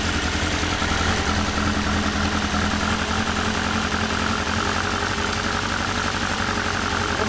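A Toyota 4AG 16-valve engine fitted with quad throttles idles steadily and evenly at close range, a continuous low rumble with no talk.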